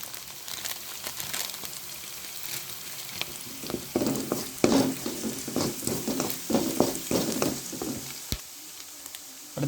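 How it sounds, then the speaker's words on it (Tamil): Onion and ginger sauté in a pan for chicken kola urundai, giving a continuous close sizzle broken by scraping stir strokes that grow busier toward the middle, with no voices. "இப்போ வெங்காயமும் இஞ்சியும் லைட்டாக வதங்கிடுச்சு"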